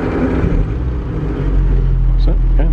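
A Morris 8 Series 1 car engine is started with a little throttle, a close low rumble that grows steadier and stronger partway through, with people talking over it.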